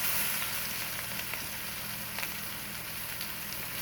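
Rib eye steak searing in an iron pan gives a steady, close sizzle and crackle with small pops, loud and continuous with no talking.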